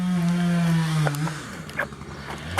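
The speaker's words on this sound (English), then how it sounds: "Sorry for the chainsaw" A chainsaw runs nearby with a steady droning whine that drops in pitch and fades, leaving scattered clatter and knocks over outdoor background noise.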